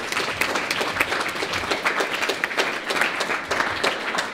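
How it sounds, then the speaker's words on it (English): Steady applause fills the hall at a hackathon awards ceremony, a dense, even wash of clapping from the audience lasting the whole stretch with no talk over it. "So give him a round of applause."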